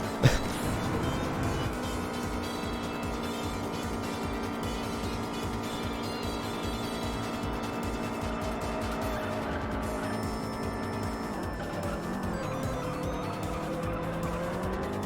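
An orange Evo race car in the racing game Juiced revs hard at high pitch, holding a steady engine whine before a gear change drops the tone, with tire squeal over the roar.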